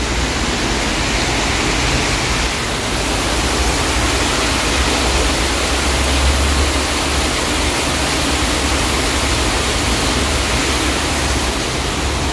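Mountain water pours down from its source on Mount Gelert, a loud, continuous rushing roar close by that holds steady without a break.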